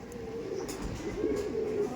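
High-flying giribaj pigeons at a home loft coo in a low rolling murmur, with a clearer burbling coo rising toward the end.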